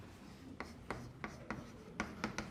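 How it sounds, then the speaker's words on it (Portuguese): Chalk or marker strokes on a board while a Taylor formula is worked out, a series of about seven short, crisp scratchy taps spaced unevenly and heard close with no talk over them. "vou escrever aqui"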